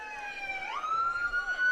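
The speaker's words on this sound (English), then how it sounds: "As you can hear the sirens going." Police car sirens at an outdoor parade wail steadily at moderate distance, a rising and sustained tone that holds for the whole moment with faint crowd noise beneath.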